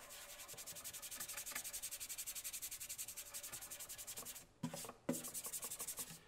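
Acoustic dreadnought guitar body being wiped clean with cleaning liquid and a cloth, a quick steady rhythmic rubbing close up, broken by a short pause and a couple of firmer strokes near the end.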